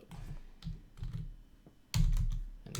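Computer keyboard typing during an online 25NL poker coaching session, several short bursts of quick keystrokes clustered together with brief pauses between, close and fairly clear with no talk.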